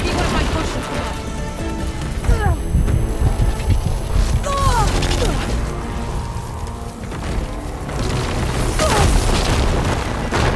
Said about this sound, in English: Got plasma on me. It's gonna explode any second.